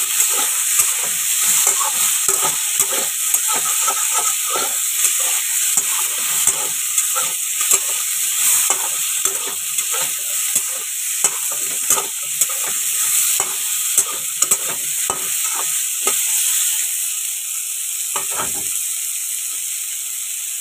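Papaya and potato pieces frying in oil in a pan, stirred with a spatula. A steady close sizzle runs throughout, with frequent scraping, clattering stirs, and no talk.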